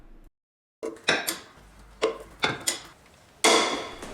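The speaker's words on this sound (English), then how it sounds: "I'm using a breaker bar to loosen them up" Sharp metallic clanks and knocks from a breaker bar loosening the bolts that hold a bracket on a 4th gen 4Runner's front strut assembly during a Bilstein 5100 shock install, with several separate close impacts around short pauses.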